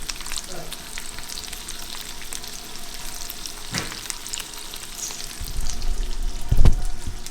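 Chicken chilli with added butter reheating in a pan, giving a steady close sizzle and light frying crackle, with a few utensil knocks and a louder clatter near the end.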